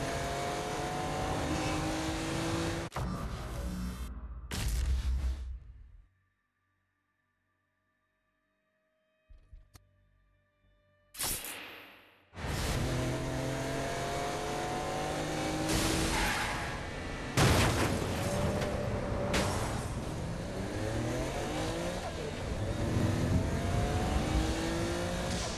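A car driving in the video game Saints Row: Gat Out of Hell, its engine loud and revving with rising gear sweeps, broken by a few seconds of near silence before the engine surges back.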